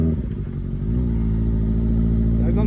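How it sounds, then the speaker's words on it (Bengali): Superbike motorcycle riding off-road through jungle, its engine a loud, close, steady low drone that rises slightly in pitch partway through, with no speech over it. "আমরা এখন সুপার বাইক নিয়ে অফরোডিং করে যাচ্ছি জঙ্গলের মধ্যে দিয়ে।"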